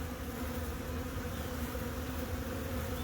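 Bees buzz in a steady, dense drone that holds without a break, close and fairly quiet, with no voices.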